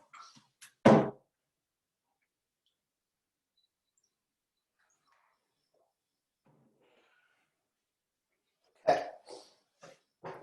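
A single sharp cough near the start, then quiet, followed by a short cluster of coughs or throat sounds toward the end.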